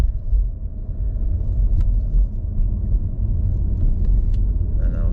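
A 2022 Volvo S60 Recharge T8 R-Design plug-in hybrid accelerates onto a highway, heard from inside as a steady low road rumble and engine drone with faint tyre hiss and a few small cabin ticks.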